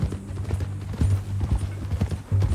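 Horse hooves clip-clopping at a steady walking rhythm in the video game Red Dead Redemption 2, close and continuous.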